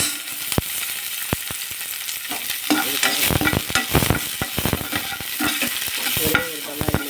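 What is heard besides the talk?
stirring and frying masala with onion in a pan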